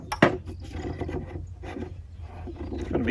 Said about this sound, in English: We'll just thread this through here.